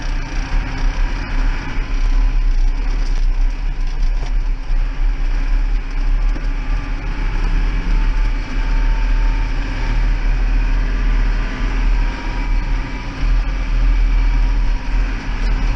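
Massey Ferguson 6160 tractor engine running steadily while hedgecutting, a continuous low rumble with a loose mechanical rattle, close and loud throughout with no talk.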